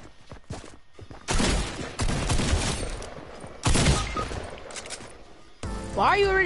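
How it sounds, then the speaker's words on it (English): Bursts of rapid automatic gunfire in a video game, loud and close, arriving in several dense volleys separated by brief gaps. "Why are you already shooting at me?"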